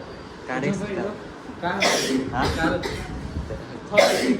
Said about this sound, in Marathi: खोकला यायला लागलाय